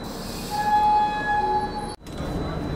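Amritsar Mail train standing at Maa Bela Devi Dham Pratapgarh junction, a steady rumble of rail noise with sustained tonal horn-like notes for about a second and a half, then a brief dropout before the station din resumes.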